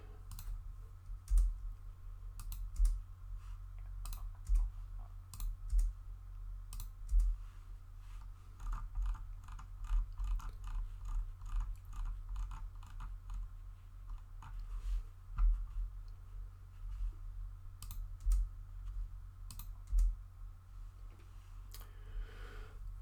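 Rapid, light clicks from a computer mouse and keys, coming in irregular bursts close up over a low steady hum, with no voices.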